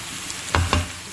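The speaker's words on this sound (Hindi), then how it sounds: "तमाम मसाले डाल के अच्छी तरह आलू को 5 मिनट तक अच्छी तरह से हम इसको इस तरह से भून लेंगे" Potatoes with spices fry in a pan for aloo ki bhujia, a soft steady sizzle broken by two brief stirring scrapes.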